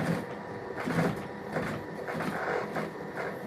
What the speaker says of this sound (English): And I start stitching.